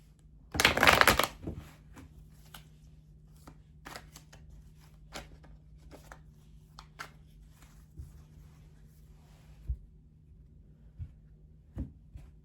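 Tarot cards are shuffled in a quick, close, crisp riffle burst near the start, followed by sparse soft taps and clicks of cards being handled in an otherwise quiet room.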